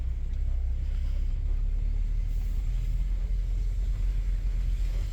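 A 1988 VW Transporter camper rolls over bumpy ground, a steady close low rumble of engine and road noise with wind buffeting, continuous and without talk.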